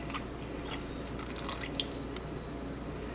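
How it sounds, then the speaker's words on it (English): Coconut milk is poured into a cooled parsnip, carrot and ginger soup, making soft, close dripping and splashing that continues steadily and quietly throughout, with no talking. "We're just going to add in the coconut milk."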